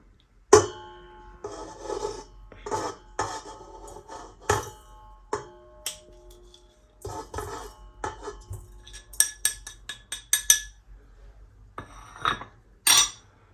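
Butter and sugar mixed in a bowl for a lemon cake: repeated clinking and scraping of a utensil against the bowl in an uneven rhythm, close and fairly quiet, with no talking.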